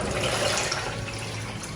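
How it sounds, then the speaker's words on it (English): Water poured into a pot of cooking Nigerian beef stew, a steady close gushing splash that runs continuously for under two seconds with no voices. "I'm going ahead to pour in a reasonable quantity of water."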